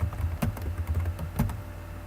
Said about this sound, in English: we're going to type in Cultural.